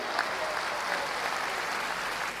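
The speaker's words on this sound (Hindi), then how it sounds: "एक बार आपकी जोरदार तालियां।" A conference audience applauds, a dense and even wash of clapping that holds steady at a fairly distant, moderate level from start to finish.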